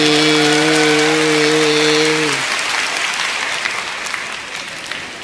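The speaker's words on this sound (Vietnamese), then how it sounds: "Cho thêm tràng pháo tay nữa đây ha." Loud audience applause breaks out right after a sung happy birthday at a comedy stage show, the dense clapping carrying on steadily for the whole stretch, with the sung tone fading out early.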